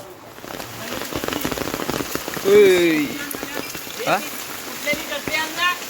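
Heavy monsoon rain pours steadily over a Konkan village, a dense hiss of drops drumming on surfaces close by, while people talk intermittently beneath it.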